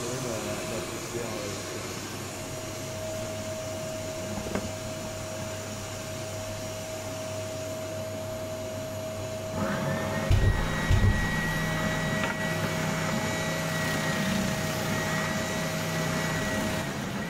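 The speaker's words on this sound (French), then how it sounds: "ça allume la lampe et l'aspirateur se lance" Vacuum cleaner switching on partway through inside a homemade dry toilet, a steady motor whine rising over background hum and holding loud and close to the end.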